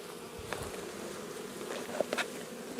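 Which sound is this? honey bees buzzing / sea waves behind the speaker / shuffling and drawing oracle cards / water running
honey bees buzzing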